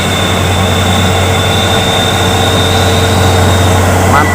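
A Hino 500 truck engine runs loud and steady with a deep low drone and a constant high whine, close by and unbroken throughout.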